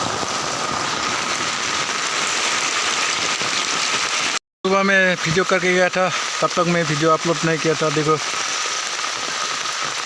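Heavy, unrelenting rain in a village during the monsoon, a steady dense hiss throughout with a brief cutout, while someone talks over it for most of the second half.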